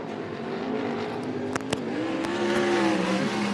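Sprint race cars roaring down the back straightaway at Bakersfield Speedway, a steady loud engine drone with rising pitch and a couple of sharp clicks, no voices.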